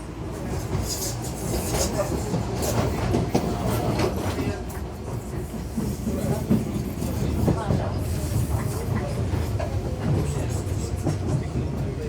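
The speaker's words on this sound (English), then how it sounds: "My DLR train arriving at Canning Town to take me just the one stop to Royal Victoria" An older original DLR train pulls into Canning Town station with a steady rolling rumble and rattling wheel noise, heard from close by on the platform.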